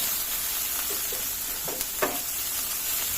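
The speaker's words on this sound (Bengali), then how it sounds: "মশলাটা আমার কষানো হয়ে গেছে তেলটা উপরে চলে এসেছে মশলার" Spice masala for a hilsa and brinjal curry frying in oil, a steady soft sizzle with a few brief stirring scrapes near the middle, close and alone without voices.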